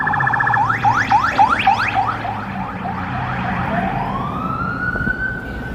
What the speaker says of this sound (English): Oh, we got some sirens.